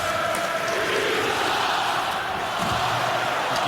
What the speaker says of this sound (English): Giving Jimmy Howard the rhubarb, Bronx cheer, whatever you want to call it, the business.